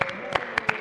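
Scattered applause from a church symphony audience welcoming composer John Bachman, a few separate claps standing out faintly rather than a full ovation.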